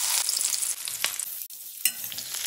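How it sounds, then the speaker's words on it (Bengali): Cauliflower florets frying in mustard oil in a wok give a loud, steady sizzle with a few bursts of stirring, briefly dropping out mid-clip before the hiss returns. "এখন আমি ফুলকপিগুলো ভেজে নেব।"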